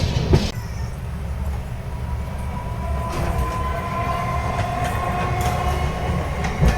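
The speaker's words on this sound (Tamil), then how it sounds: "ஒரு லோக்கல் ட்ரெயின் போகுது" A local train rolls steadily past a station near Chennai Egmore at midnight, its constant low rumble and faint wheel squeal carrying throughout with occasional clatter, no voices over it.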